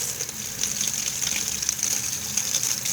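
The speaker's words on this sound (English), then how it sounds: "run some water through the bearings, spin it a few times until the water stops coming out" Water from a tap runs steadily over the bearings of a fidget spinner during cleaning, a continuous close gushing splash with no talking.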